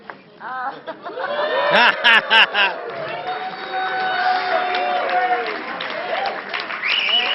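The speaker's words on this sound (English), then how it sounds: "It works every time. Cheap applause." A crowd breaks into applause and cheering, loud and sustained, with lively chatter and laughter mixed in around it.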